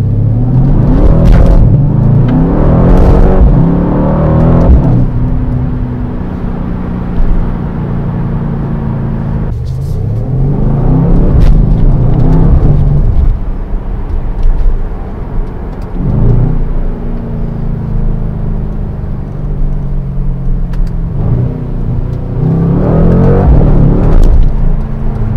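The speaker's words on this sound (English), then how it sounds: "So let's see how fast this car accelerates." A 2020 Mercedes-AMG C63 S Estate, rear-wheel drive, accelerates hard through Amsterdam city streets, its engine surging in three loud rising pulls with gear-change drops between them, close and continuous throughout.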